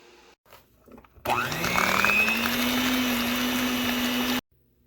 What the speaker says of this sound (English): Now beat in 3 eggs, but 1 at a time.